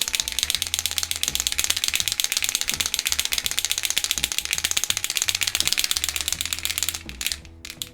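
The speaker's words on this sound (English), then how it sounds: "So shake, and you can hear that ball moves much more freer in these." A paint pen is shaken hard, its mixing ball rattling inside in a fast, loud, even clatter that runs for several seconds before stopping abruptly.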